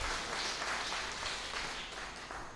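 A church congregation at a Hindi mass breaks into steady applause, a soft, even patter of many hands heard from a slight distance.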